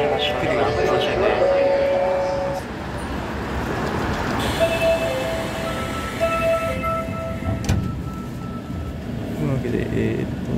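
An Osaka Metro 30000 series subway train rumbles steadily along the track with rattling and brief tonal squeals, while a person talks over the ride.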